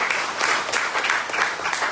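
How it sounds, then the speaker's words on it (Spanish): A church congregation claps loudly and steadily during a Spanish-language worship service, a dense wash of applause filling the whole stretch. "Denle un fuerte aplauso al Señor."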